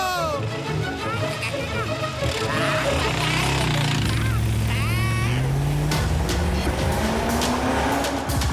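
A cartoon car speeds off with its brakes released, engine whining upward in sweeping pitch glides over sustained loud tire squeals and skidding, continuous and close throughout.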